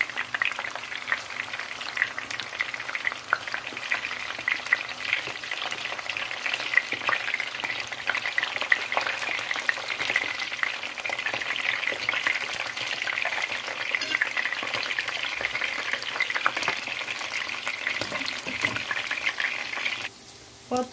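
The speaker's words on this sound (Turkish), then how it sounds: "Patlıcanlarımı kızarttım" Eggplant pieces fry in hot oil in a pan, a dense continuous sizzle with occasional scrapes and clinks as they are turned, steady and close without speech.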